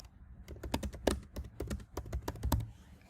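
Quick typing on a computer keyboard as a post title is entered, a brisk run of close, crisp key clicks with short pauses, no voices.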